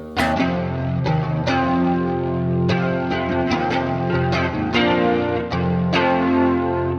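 A heavy, distorted electric guitar riff with chord stabs and sustained notes, thick and loud, with a warbling effect and some echo.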